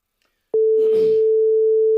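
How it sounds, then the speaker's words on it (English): A steady electronic ringback tone starts abruptly after a brief silence and holds continuously on an outgoing phone call, with a short burst of noise near its onset. "Phone is ringing."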